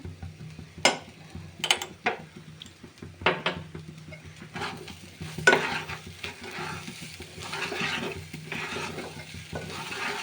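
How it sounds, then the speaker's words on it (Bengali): Rice stirred and fried in a pan for hilsa pulao makes a sequence of sharp spatula scrapes and clatters over a low sizzle, close by and irregular, with no speech. "এখন ভালো করে আর একবার চাল ভেজে নেব"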